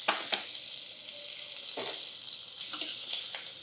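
Green chillies and curry leaves fry in hot oil while making bottle gourd curry, with a loud, continuous close-up sizzle and a few sharper crackles and spatters breaking through.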